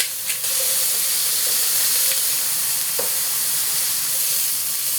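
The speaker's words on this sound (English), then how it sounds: "we're going to go ahead and cook this for 3, maybe 5 minutes or until the onions are nice and soft" Onions and peppers seasoned with salt and pepper sizzle in a hot pan, a continuous loud hissing fry with steady steam, alone and close, with an occasional faint clink.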